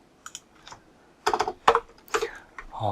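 A computer keyboard clicks in short bursts of quick keystrokes, separated by pauses, close and moderately loud with no talking over it.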